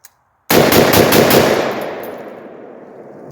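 A Palmetto PA-10 AR-10 rifle firing five rapid rounds of Tula .308 into a dirt pile outdoors, a sudden loud burst of shots that ends in a long echoing decay.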